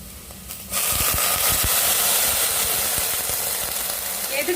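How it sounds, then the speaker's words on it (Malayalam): Water poured over fried vermicelli in a hot pan or cooker for upma sets off a sudden loud, broad hiss that starts abruptly and holds steady, with light clatter underneath. "ഇതിലേക്ക് വെള്ളം ഒഴിക്കാം."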